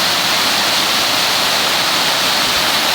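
A flooded brook on a coastal hiking trail rushes loudly and steadily, a dense, unbroken roar of fast-flowing water heard close up with no voices.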